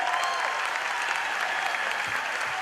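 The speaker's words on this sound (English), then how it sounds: "give Anthony a round of applause as well" Audience applause for musician Anthony Risesco at an Irish Fest traditional music session, steady moderate clapping from a crowd throughout, fairly even and a little distant.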